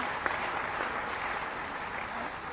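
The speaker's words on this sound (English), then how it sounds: "Special applause for him." Faint, steady applause from an audience at a medical conference greets a visiting professor, a soft continuous patter of many hands heard at a distance.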